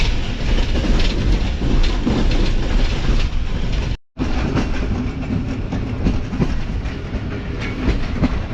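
Karachi Express train running on the rails as it approaches Bahawalpur on a winter night, with loud continuous rumbling and rhythmic clickety-clack from inside the coach, broken only by a very brief dropout midway.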